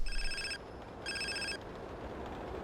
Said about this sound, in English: he gets a mysterious phone call